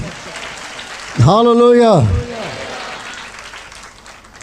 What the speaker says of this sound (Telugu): అందరూ బిగ్గరగా చప్పట్లతో దేవుని కనపరచండి